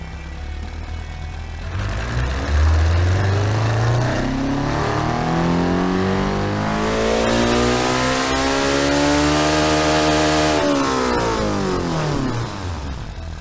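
A turbocharged 1.5-litre rally hatchback engine with no mufflers, from the Automation car-building game, revs up hard in a loud, rising sweep, holds a high strained note, then drops back down, with no one speaking.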